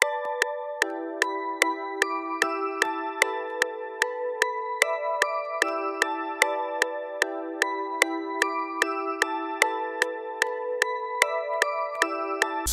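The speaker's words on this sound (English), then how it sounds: "here's the bell that I use for this song" A bright, bell-like synthesized melody made in FL Studio plays in a steady rhythm, regular struck notes ringing over repeating sustained tones, with no voices.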